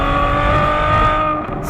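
A Ferrari Superfast's naturally aspirated 6.5-litre V12 holds a loud, steady, harmonic engine drone close by, tapering slightly at the end, with no voices over it.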